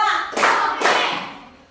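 Two loud group claps from students in a classroom ice-breaking clap game, many hands striking together in a quick pair, near and clear, followed by a fading tail.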